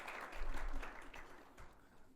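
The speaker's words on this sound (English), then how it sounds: "So round of applause for our team member." Audience applause at a women's day celebration, a dense wash of clapping that swells and then thins out over about two seconds, heard at moderate distance in a hall.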